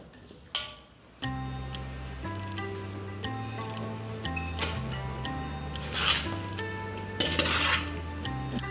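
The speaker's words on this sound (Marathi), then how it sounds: "मिक्स करून घेऊया आपण आणि आता आपण जे तेल बनवलं होतं ना मसाला तो घालून घ्यायचा त्याच्यावर" Mango pickle being stirred together with spiced oil, soft scraping and clinking of a spoon against a pot repeating at an irregular pace, with a steady background drone and a few louder clatters.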